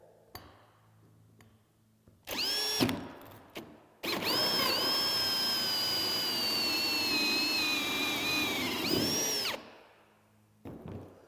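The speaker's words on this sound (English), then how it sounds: "now you got your hole drilled" A power drill bores a hole to install a NightOwl TLM over a cardboard box: a short burst, then a long steady high whine of about five seconds that spins down, and a brief final rev.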